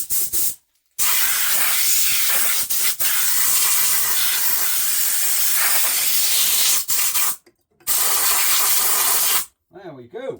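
Compressed air blasts blowing out a Bernard W0 water pump during restoration, loud harsh hissing bursts in several long spurts separated by short pauses, with brief speech near the end.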